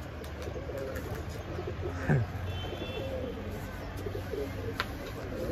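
Soft, low pigeon cooing repeats over a steady murmur of outdoor noise, with a brief sharp call near the middle.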